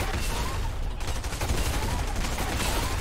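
Stinger SMG submachine gun firing in rapid continuous bursts during a squad battle-royale video game match, loud and dense throughout with brief pauses, a faint voice underneath.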